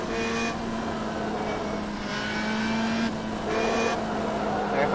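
Race car engines on a track in the rFactor 2 racing game, a steady droning engine tone with shifting pitch and brief rises as cars pass, continuous and fairly loud, no talk.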